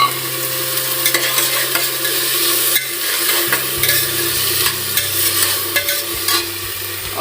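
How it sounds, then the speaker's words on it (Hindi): Sprouts with onion and tomato sautéing in a pan for a home-style Indian dish. A close, steady sizzle runs under repeated stirring scrapes throughout, with no one talking. "प्याज भी डाल करके, टमाटर भी डाल करके मैं इसको सौते कर रही हूँ"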